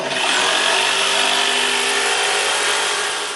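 Power tool revving up to sand a wooden longboard, a loud, continuous high-pitched whine that holds steady for several seconds before easing slightly at the end.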